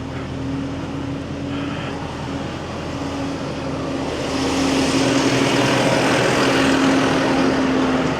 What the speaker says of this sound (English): We'll let the tractor go by.